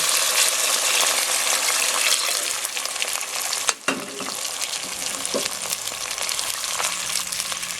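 Chicken frying in a pan for a Japanese-style cream stew, a loud continuous sizzle with stirring scrapes and a sharp clatter midway, with no voices.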